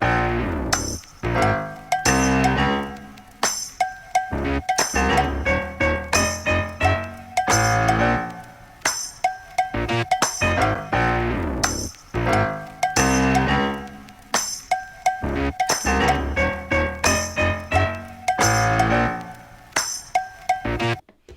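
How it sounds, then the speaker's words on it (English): Sample loop time-stretched on a Maschine+ MK3, playing back as a rhythmic, bright, tonal pattern of chiming hits and chords that repeats in short phrases with brief gaps, loud and without talk. "let's go ahead and play it with stretch, and then we're gonna go into formant"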